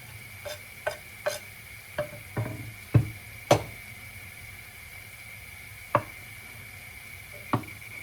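A knife chops boiled eggs on a cutting board in about nine irregular, close taps, some quick together and others spaced apart, over a faint background sizzle.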